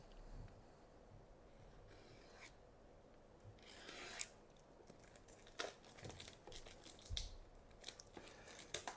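A Chinese Pokémon card box being opened brings quiet close-up snips, crinkling plastic and rubbing, tearing packaging, with scattered sharp clicks and rustles growing busier toward the end.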